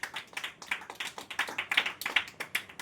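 An audience at a sermon claps loudly and steadily, a fast, even run of sharp hand claps close by, with no talking over it.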